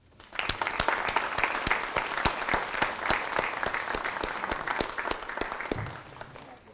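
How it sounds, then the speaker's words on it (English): Audience at a high school military recognition ceremony giving the parents a round of applause, dense clapping with sharp individual claps that rises quickly, holds steady for several seconds, then fades out. "let's just take a moment to thank the parents and give them a round of applause"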